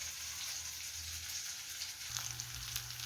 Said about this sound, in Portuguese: E a minha calabresa continua lá fritando.